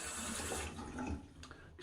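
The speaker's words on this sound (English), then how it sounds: "excuse the water noise there" Water runs steadily from a sink tap during a wet shave, a close, continuous splashing hiss with no talking.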